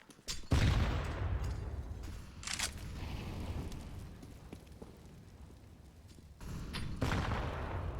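Grenades burst during a Counter-Strike match, with a loud blast at the start, a smaller thump a couple of seconds later and another explosion near the end, all over a rumbling game background.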